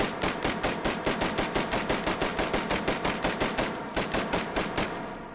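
A Brügger & Thomet APC 9 carbine fires in the H3VR video game, a fast, even string of loud, close shots at a rapid rhythm that trails off near the end.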